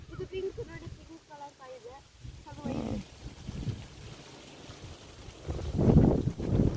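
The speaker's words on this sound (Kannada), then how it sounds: "ಗಾಳಿನ ನಾನು ಬೀಳಿಸ್ಬಿಡ್ತೈತೆ ಮಗನೆ ಫೋರ್ಸಾಗಿ ಬರ್ತಾ ಇದೆ" Strong, gusty wind sweeps across open farm fields, buffeting the microphone in loud rushing bursts, while voices talk briefly near the start.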